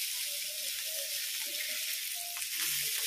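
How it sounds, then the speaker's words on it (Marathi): Chilapi fish sizzle and fry in a pan, a steady bright crackle with a few faint clinks as pieces are turned one by one. "एक एक करून चिलापी मी पलटवून घेते"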